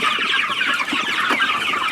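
A flock of 74 meat chickens clucks and chirps continuously, making a dense, busy chatter of many close birds with no talking over it.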